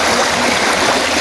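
Steady river current rushing past, a dense, even wash of flowing water filling the whole clip at close range with no pauses or other sounds.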